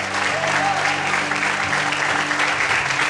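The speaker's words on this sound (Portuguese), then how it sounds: "Aplauda o Senhor nessa noite." A worshipping congregation applauds during an evening church service, a steady wash of many clapping hands heard close and fairly loud, with a sustained organ or keyboard tone underneath.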